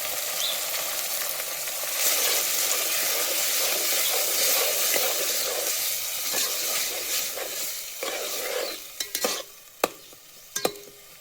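Desi tomatoes sizzle in a pan for a cashew-tomato curry, giving a loud, continuous frying hiss with bubbling, and a few sharp utensil clacks from stirring near the end.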